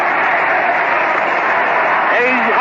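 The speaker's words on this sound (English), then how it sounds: "we had to wait for the roar of the crowd that time" A dense, steady crowd roar fills a packed ballpark at a 1937 World Series baseball game between the Yankees and Giants after a high foul ball near the stands, loud and continuous with a brief voice near the end.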